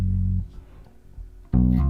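Bass guitar plays a line, with low sustained notes that fall quiet briefly in the middle before a new note comes in near the end. The short phrase is close and fairly quiet, with no talking.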